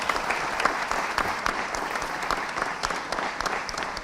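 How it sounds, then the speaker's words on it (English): An audience at a financial literacy quiz semi-final claps in sustained, dense applause, steady and fairly loud throughout, with no voices standing out. "Round of applause for them."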